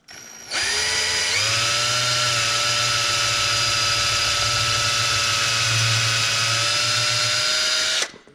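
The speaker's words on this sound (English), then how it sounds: "And I want to drill through the holes or through the marks." A power drill whirs steadily at high speed for several seconds while drilling through wood, then winds down and stops; loud and close, with no talking.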